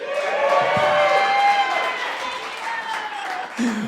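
Cubs fans in a small comedy theater crowd cheer and clap, a mix of whoops, voices and applause that swells at first and then tapers, with a few shouts standing out.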